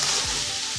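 Boiled potatoes fry with spices in hot oil for a potato dish, giving a steady, loud, close sizzle with a couple of low scraping stirs and no talking.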